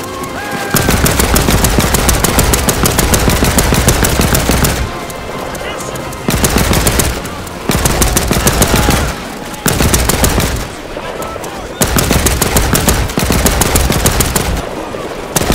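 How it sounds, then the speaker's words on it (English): Machine gun fire in the action shooter video game Land of War comes as loud, sustained automatic bursts, repeated several times with short pauses between. "machine gun."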